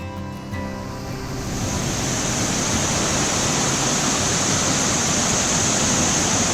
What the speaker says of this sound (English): to my backside is this beautiful waterfall. It is around 100 feet high and this waterfall is mesmerizing.